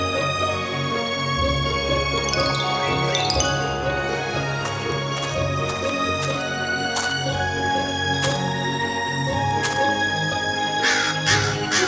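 A crow caws over and over in harsh, scratchy calls at an irregular pace, clear and fairly close, with faint tinkling in the background.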